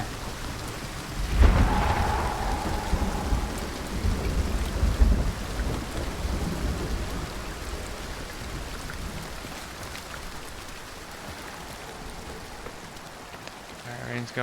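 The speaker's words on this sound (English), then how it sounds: "Alright, rain's going away." Steady rain hisses and patters on surfaces throughout a storm in a video game, with a deep rumbling thunderclap near the start that rolls on for several seconds before easing into continuous rainfall.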